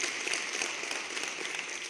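Applause from an audience at a Gen Z voter education event, a steady dense clatter of many hands clapping together, fairly loud and continuous throughout with no talk over it.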